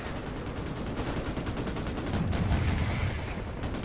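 Dense, continuous helicopter gunfire crackles throughout in Call of Duty 4: Modern Warfare Remastered, with a heavier low boom swelling midway, like a chaotic battle with explosions.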